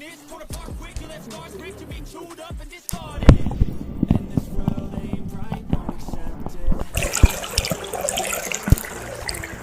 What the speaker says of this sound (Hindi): ये पहाड़ के बीच से अभी पानी जा रहा है